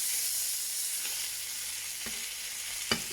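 Venison steaks fry in butter in a pan, a soft, steady sizzle and hiss with a few faint utensil taps near the end.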